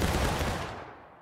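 A massed musket volley in a Civil War battle video game at Bloody Lane, one loud crashing burst of many shots fired together, rolling off into a fading echo.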